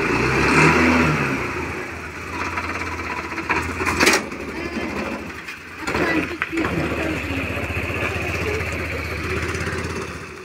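Vehicle engine driving and revving during heavy rain at a Dussehra celebration, a dense continuous rumbling drone with rising and falling surges, loud and close, with people talking over it.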